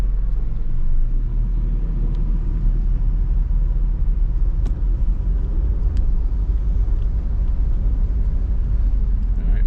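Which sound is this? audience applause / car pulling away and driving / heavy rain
car pulling away and driving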